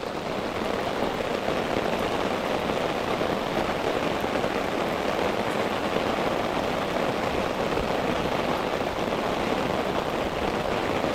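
Heavy rain pours steadily and loudly on a hot day during a kayak fishing trip, a dense unbroken hiss for the whole stretch with no voices.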